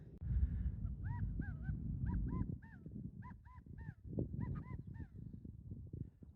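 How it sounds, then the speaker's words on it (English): Outdoor birds call in short repeated two-note honking cries over a low rumble of wind or handling noise, among mine tailing piles on the back streets of Virginia City. "as you can hear from the birds, there's a lot of wildlife in here also."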